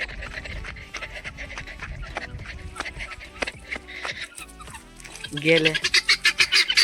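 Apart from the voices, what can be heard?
turkey hens calling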